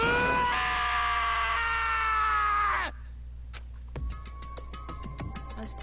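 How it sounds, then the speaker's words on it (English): A Danganronpa character's sad, drawn-out scream with a strained, wavering tone lasts about three seconds, then cuts off abruptly and gives way to quiet game sound effects and faint tones. "As Taco's sad scream invaded our skulls"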